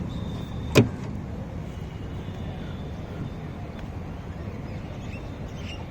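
A single sharp snap as the petrol filler lid of a Chevrolet Sail car is shut, close and brief, followed by a steady low background hum.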